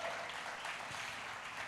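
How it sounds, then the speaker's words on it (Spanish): A church congregation applauds, with a dense, steady wash of clapping filling the whole short moment and no speech over it. "¿Alguien puede darle un aplauso a Dios?"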